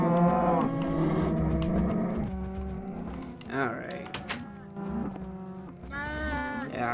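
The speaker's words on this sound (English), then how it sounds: "Freaking sheep." Sheep bleating in the Minecraft video game on Xbox One, repeated blocky bleats over steady game music and background noise, fairly loud throughout.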